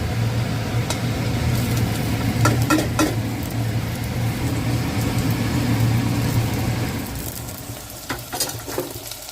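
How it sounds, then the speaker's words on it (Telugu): Onions fry in a pan for khichdi, giving a steady close sizzle with occasional stirring scrapes. The sizzle eases slightly toward the end. "వీటిని కొంతసేపు వేగనిద్దాము. ఉల్లిపాయలు కాలిన తర్వాత టమాటాలు వేసుకోవాలి."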